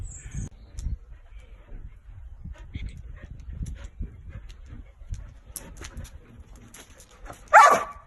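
A dog gives a single sharp bark near the end of a quiet stretch during a dog correction training session, preceded by soft shuffling and low background noise.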